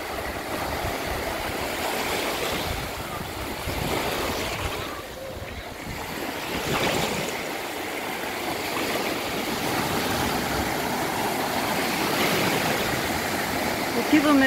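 Small waves lap continuously on a busy seaside beach near a river mouth, a steady rushing wash of water with breezy noise and a faint murmur of people throughout.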